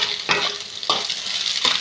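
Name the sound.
egg and potato bhujia frying and being stirred in a pan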